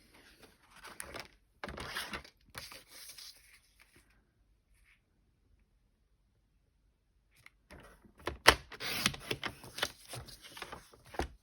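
A paper trimmer slices through card for handmade card making, giving two bursts of sliding, clicking cuts separated by several seconds of near silence, close and moderately loud.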